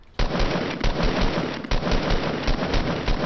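Rapid automatic gunfire rattles in the Fortnite battle royale game, loud close bursts of shots in a fast uneven rhythm with brief gaps, filling the whole moment without speech.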